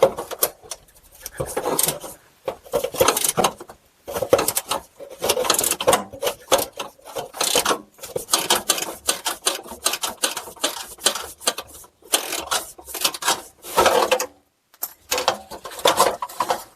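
A pivot ratchet wrench loosens a 10 mm bolt on a Buick Lacrosse or Chevy Impala or Malibu fuel filler neck, with rapid bursts of close ratcheting clicks separated by brief pauses.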